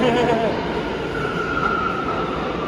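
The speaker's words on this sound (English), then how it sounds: "Trains are a problem." A New York MTA subway train rumbles loudly through Euclid Avenue station on the A/C line, a dense steady roar with a faint wheel squeal, with people talking underneath.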